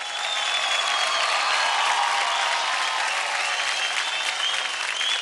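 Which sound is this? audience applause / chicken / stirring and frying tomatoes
audience applause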